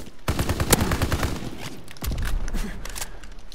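Rapid gunfire from a multiplayer shooter crackles in fast bursts: a dense run of automatic shots, a brief pause, then another flurry, loud and close with no talk.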